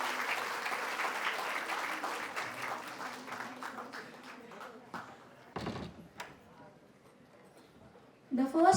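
Crowd applause for young rank holders at a school annual day, fairly steady clapping that thins and fades out, followed by a few scattered knocks and a louder burst at the very end.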